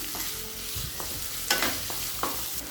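Onions and green chillies being sautéed in a pan for rava upma, an ongoing sizzle broken by a few sharp scrapes and clinks of a spoon stirring, close and fairly loud.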